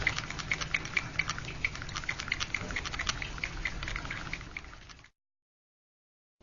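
Airbrush paint of red oxide, purple and a drop of green being mixed, giving a rapid, close patter of liquid agitation for about five seconds before cutting to silence.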